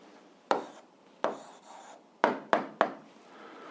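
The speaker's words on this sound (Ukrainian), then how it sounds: "А зараз записуємо відповідь, пишемо відповідь." A pen writes an algebra answer by hand on paper, heard as five short, close scratching strokes with brief pauses between them, alone in a quiet room.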